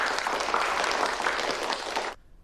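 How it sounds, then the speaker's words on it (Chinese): An audience at a cooking competition claps in a loud, dense burst for about two seconds, then cuts off abruptly into near silence. "再一次掌声，来！"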